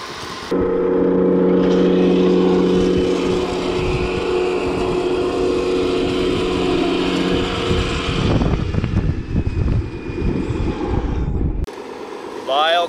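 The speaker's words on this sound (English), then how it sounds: "Lyle coming with the articulating Volvo" A Volvo articulated hauler's engine rumbles loudly and steadily at a mining site, then surges and fades as it passes, with wind noise and people talking over it.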